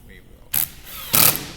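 A power drill drives screws into a wooden birdhouse panel during assembly: two short, close whirring bursts separated by a brief pause, each under a second.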